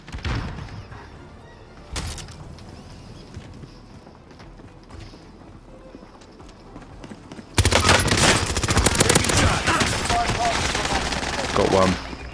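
Dense, rapid automatic gunfire in Call of Duty: Warzone (Verdansk '84, train station), a sharp burst near 2 seconds, then quieter action before sustained loud firing erupts for the last several seconds.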